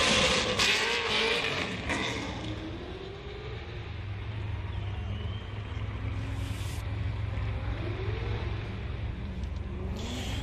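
A Nissan S13 drift car with a large hood-poking air filter screams at high revs while its tires skid and burn in a sustained, roaring wash of engine and rubber noise at a Formula Drift Pro2 event.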